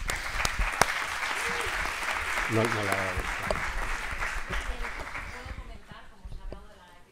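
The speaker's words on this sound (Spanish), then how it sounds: "Jorge Herrero, que también se merece este aplauso" Sustained applause from an audience, a dense clatter of clapping that tapers off toward the end, with a voice speaking briefly over it.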